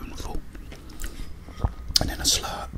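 A spoonful of tomato soup is eaten close to the microphone, with soft wet mouth sounds, a sharp click and a few small bites in a quiet room, under a whispering voice.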